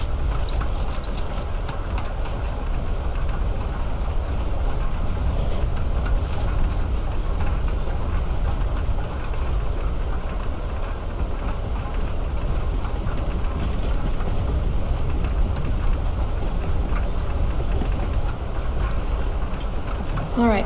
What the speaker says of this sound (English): Alright, Chloe, we're on a freaking train with Rachel freaking Amber